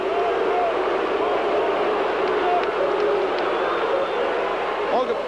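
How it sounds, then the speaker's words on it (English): A baseball stadium crowd at a 1982 World Series game in Milwaukee roars and cheers in a steady, distant wash, with a voice talking over it. "Listen to the crowd."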